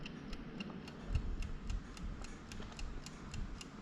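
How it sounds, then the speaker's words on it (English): A Frankford Arsenal timer ticks at a fast, even rhythm, faint and close, with soft crisp clicks repeating over a quiet room background. "Yeah, you can hear it ticking away."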